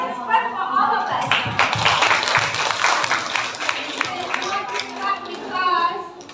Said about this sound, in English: let's clap for all of us